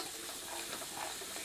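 Chopped onions frying in a pressure cooker over medium heat for chicken curry give off a steady, dense sizzle that runs evenly throughout, close and moderately loud.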